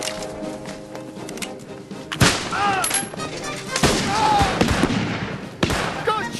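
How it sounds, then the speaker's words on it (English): Gunfire in a Napoleonic-era battle scene: bursts of loud, sharp shots and volleys crack over a busy din of shouting and movement. "Good shooting, Sharpe"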